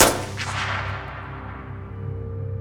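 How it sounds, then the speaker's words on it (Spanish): A single gunshot cracks loudly at the start, then a long echoing decay fades out over a low, steady hum, with no voices. "El segundo disparo llegó cuando el motor arrancaba"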